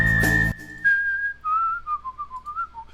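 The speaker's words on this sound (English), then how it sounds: "I can't whistle it anymore." A person whistles a melody, starting with a long held note after a brief loud burst, then moving through a run of short, wavering notes at close range.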